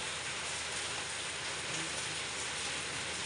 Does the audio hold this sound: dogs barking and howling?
no